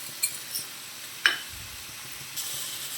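Fenugreek seeds dropped into a small kadai hiss and sizzle softly, with a few light clinks of a spoon against the pan, quiet and close.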